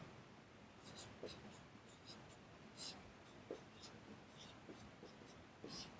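Chalk or marker writing during a math lecture on sums of factors, faint close scratchy strokes in short irregular bursts over a quiet room.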